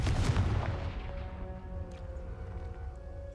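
Confringo blasting spell in Hogwarts Legacy, a loud burst at the start that fades into a ringing tonal decay with faint crackles, alone without talk.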